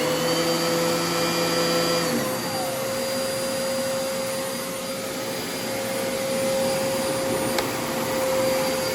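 A 2018 Riccar Brilliance R30D vacuum cleaner runs with a loud, steady motor whine and airy roar, its pitch shifting slightly early on, with no talk.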